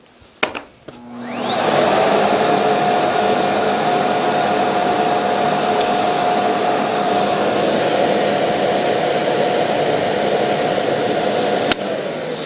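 A Miele Boost CX1 Cat & Dog vacuum cleaner switches on with a click at its highest suction setting and spins up into a loud, steady roaring whoosh with a high whine, running continuously until another click near the end.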